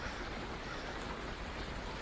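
Steady rain falls in an even, unbroken hiss, soft and diffuse, with no voices or other sounds.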